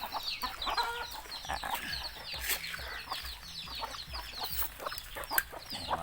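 Roosters on a farm give repeated clucks and short calls, with several birds overlapping in a busy, fairly quiet barnyard chorus and no talking.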